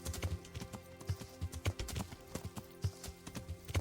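Horse hooves clip-clopping along a road in the video game Kingdom Come: Deliverance, a fairly quick irregular beat of muffled thuds over a steady low game tone, with no talk.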